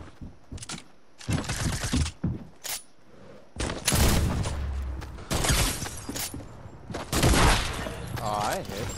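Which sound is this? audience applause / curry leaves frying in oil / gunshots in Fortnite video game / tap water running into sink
gunshots in Fortnite video game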